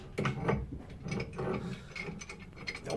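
Wrench ratcheting on a gas fitting while installing a GE gas dryer, a string of close, quick mechanical clicks and metallic rasps in short uneven bursts.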